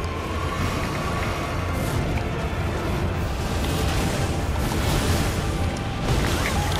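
Loud, dense rumbling blast in Elden Ring during the Maliketh fight, a sustained crashing roar with crackling bursts filling the whole stretch without pause.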